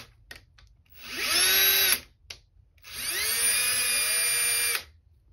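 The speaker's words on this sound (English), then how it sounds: "Slipping on the drill bit a little bit." A power drill whines loudly in two bursts, the second longer, with high metallic squealing as the bit bites into the metal sight area of a Kimber K6s revolver; quiet pauses between.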